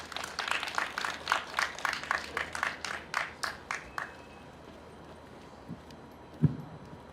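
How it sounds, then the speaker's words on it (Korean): An audience at a candlelight memorial for the Itaewon disaster, outside Seoul City Hall, claps in steady rhythmic unison for about four seconds, then falls quiet apart from a soft thump. "박수를 부탁드립니다."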